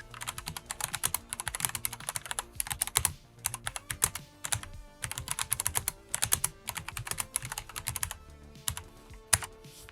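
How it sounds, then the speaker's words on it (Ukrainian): Fast, forceful typing on a computer keyboard, dense bursts of close key clacks with brief pauses between runs, steady and busy throughout with no voices. "я не вмію обережно набирати текст, а працюю наповну"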